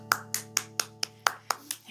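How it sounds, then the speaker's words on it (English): Children clapping their hands during a classroom sing-along show, about eight sharp, evenly spaced claps in a steady rhythm, close and fairly loud over a faint musical hum. "Give yourself a big clap."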